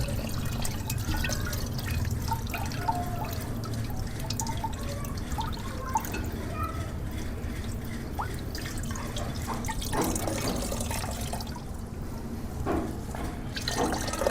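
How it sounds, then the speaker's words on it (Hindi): Water poured into a container of ingredients to soak while preparing sardai, a cold drink, with a steady splashing, dripping trickle that runs continuously and stays close. "तो अब आपने इसको इसके अंदर फिर पानी डालना है"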